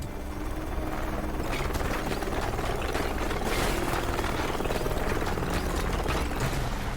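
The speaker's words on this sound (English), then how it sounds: "I'm just getting myself shot to pieces by an attack helicopter" Attack helicopter in the video game Deadlight, a dense, constant mechanical roar with rattling, chopping texture and clatter, loud and unbroken throughout.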